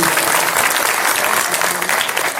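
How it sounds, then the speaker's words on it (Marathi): A crowd at a kirtan festival claps loudly and steadily, dense applause filling the whole stretch without pause. "जोरदार टाळी वाजवा"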